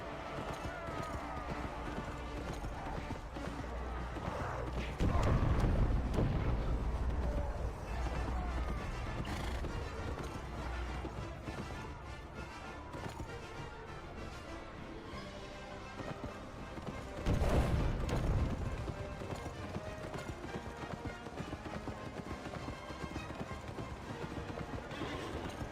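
Horse hooves clip-clop at a gallop in an Xbox 360 launch-era video game, with a few whinnies and rhythmic hoofbeats under game music, surging louder twice before the rider dismounts.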